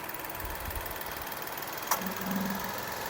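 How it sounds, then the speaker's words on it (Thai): A 2016 Nissan Almera 1.2 E Sportech engine idles with a faint, even low hum and a soft clicking texture, with a small tap partway through. "เครื่องเงียบมากนะครับ"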